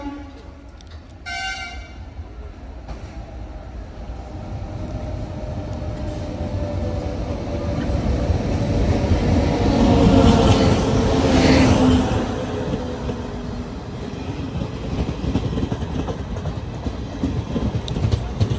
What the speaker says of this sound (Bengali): ট্রেন ছেড়ে দিল কাশিমবাজার স্টেশন